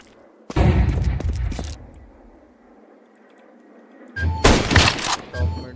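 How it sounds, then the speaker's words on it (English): A flashbang grenade in Counter-Strike 2 bursts in two loud, heavy blasts: a sharp thump that decays for over a second, then a quiet gap, then a second, longer noisy burst. "Throwing flashbang."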